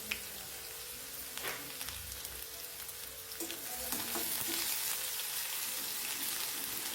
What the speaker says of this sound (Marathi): कांदा पण आपल्याला तेलावर छान परतून घ्यायचा आहे